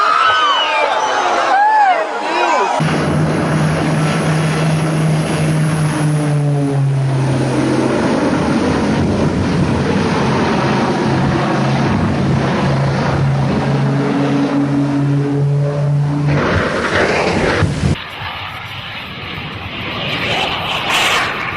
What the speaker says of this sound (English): Engine sputters.